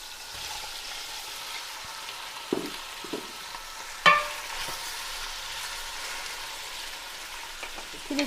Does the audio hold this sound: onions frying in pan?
yes